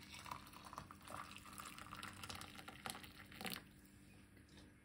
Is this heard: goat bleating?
no